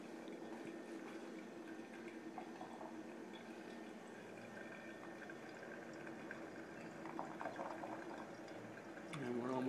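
A Bonavita BV1800TH horizontal coffeemaker brews coffee with a steady, soft gurgling and bubbling of hot water, faint and continuous, rising slightly near the end.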